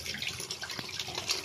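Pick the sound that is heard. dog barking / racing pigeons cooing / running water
running water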